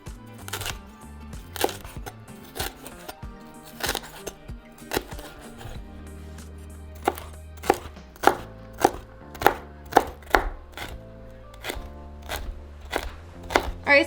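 A knife chops halved, seeded jalapenos into small pieces on a cutting board, sharp knocks starting sparse and irregular, then settling into a steady, louder run of evenly spaced strikes, close up with no talking.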